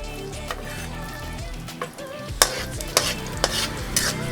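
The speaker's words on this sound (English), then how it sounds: "Just fry it. And then saute." Chicken curry cooking in oil in a pan, a steady sizzle and crackle of frying under repeated sharp scrapes and knocks of a utensil stirring the food, close and moderately loud, with no talk.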